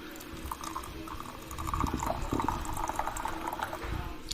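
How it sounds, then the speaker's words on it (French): Hot water pours from a kettle heated on a stove into gongfu tea utensils, a continuous liquid splash and trickle that swells midway, recorded close without talk. "On va venir verser l'eau à l'intérieur."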